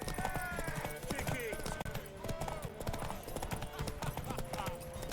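A horse gallops in a race in the video game The Witcher 3, its rapid clip-clop hoofbeats running steadily under dense game music, with voices speaking and shouting throughout.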